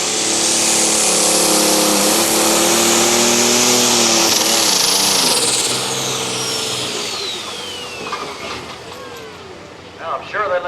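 A competition pulling truck engine roars at a truck and tractor pull, a loud sustained high-revving drone with shifting pitch that winds down, with an announcer talking over it.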